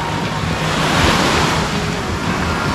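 Ocean waves roll and break continuously at a beach in San Juan, La Union, Philippines, where longboarders ride small surf; a steady, full wash of surf with some wind rumble, no voices.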